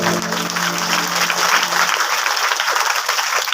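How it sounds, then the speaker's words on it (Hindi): A seated audience at a Bhagwat katha gathering bursts into loud, sustained applause, thick even clapping with a brief lingering musical tone at the start. "एक बार जोरदार तालियां हो जाए।"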